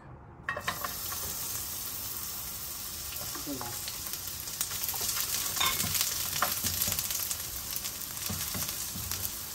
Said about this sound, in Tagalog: ilagay po natin ang sibuyas